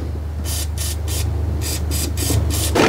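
Lubricant sprayed from an aerosol can onto car steering shaft bolts, a series of short hissing bursts in two groups of three or four, over a low steady hum.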